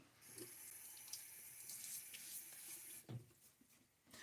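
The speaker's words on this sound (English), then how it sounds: "So I get my face wet." Tap water running into a sink while a face is wetted before a shave, a steady hiss broken by splashes and rubbing of wet hands, close and fairly quiet, pausing briefly near the end.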